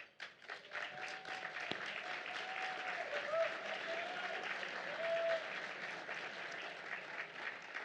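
An audience applauding distinguished guests at a law school alumni awards ceremony, a broad continuous patter of many clapping hands, fairly distant and even, with a faint voice or two mixed in.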